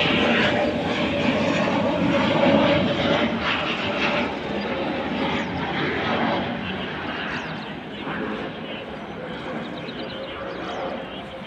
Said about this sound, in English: So it's landing, it's approaching to land.